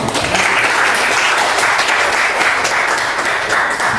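A classroom audience claps in applause during a lesson, a dense, steady wash of many hands that stays loud and even for the whole stretch.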